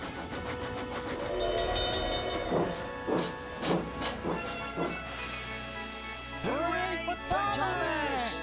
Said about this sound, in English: With a roar, the two little engines burst onto the island of Sodor.